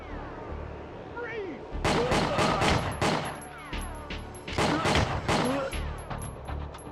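Shotgun fire in Condemned 2 arrives as a string of loud, heavy blasts in close succession with rumbling tails, while someone speaks between and over the shots.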